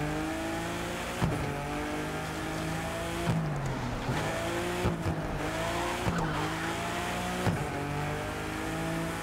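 A Nissan 400Z drives fast on mountain roads in a racing video game, its engine droning with rising and falling revs and repeated tire squeals through corners, loud and continuous.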